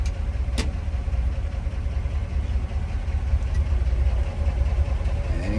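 A 1941 Chevrolet AK series pickup engine idling steadily just after a cold start, a continuous low rumbling drone heard up close and fairly loud, with no talking over it.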